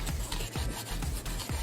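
A fresh garlic clove is scraped across dry, crusty bread for Calabrese bruschetta, making about four short, rough rasping strokes close by in a loose rhythm with no talk.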